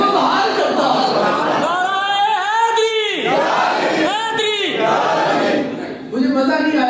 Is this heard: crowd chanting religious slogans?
yes